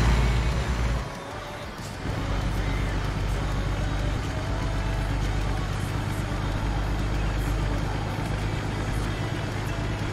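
A heavy haul truck in American Truck Simulator, hauling a transformer, gives a steady, loud engine drone with road rumble and a brief dip near the start.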